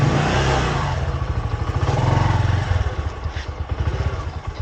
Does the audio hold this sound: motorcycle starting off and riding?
yes